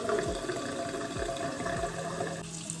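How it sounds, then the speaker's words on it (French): Water runs steadily from a bathroom tap into a basin, a continuous close splashing hiss with no one speaking. "Vous avez un robinet, hop,"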